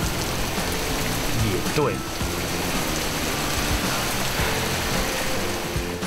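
Steady rain falls in the Maldives, a dense, even hiss of drops that holds for the whole stretch, with a voice speaking briefly over it.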